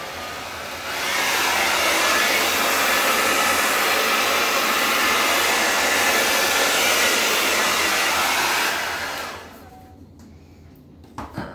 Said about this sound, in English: let's see what the hairdryer does